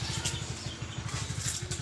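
A Honda Vario 125 scooter engine runs right after being started, giving a quick, steady low putter of pulses held close and fairly loud for a couple of seconds.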